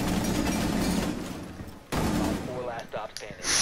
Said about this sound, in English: I just wallbanged that kid